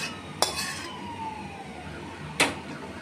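A pot of rohu fish curry being lifted off a kitchen stove gives two sharp metallic clanks of cookware about two seconds apart, over quiet background noise.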